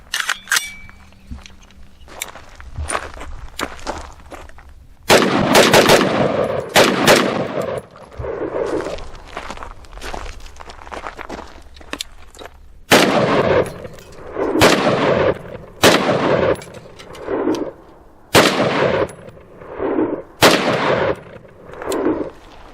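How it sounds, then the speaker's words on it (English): An ATI Alpha Maxx 5.56 pistol firing PMC .223 ammunition outdoors, a dozen or so loud, sharp shots spaced out unevenly, each with a short echoing tail, close to the listener with no talking. "Let's start off with 18 rounds of PMC 223."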